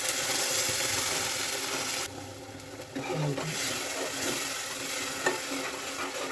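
Ginger garlic paste frying in oil in a pan while making tomato rice, a steady close sizzle with stirring scrapes and clinks of a spoon, a brief drop in the hiss partway through.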